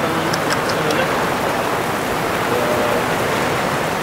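Heavy rain pours steadily on a mountain, a loud, dense hiss of water lasting throughout, with a few faint knocks early on and no clear speech.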